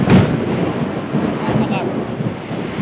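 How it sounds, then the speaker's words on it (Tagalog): Loud thunderstorm with a heavy rumble of thunder near the start, then steady rain and gusting wind buffeting the microphone throughout. "Lakas ng kulog at kidlat."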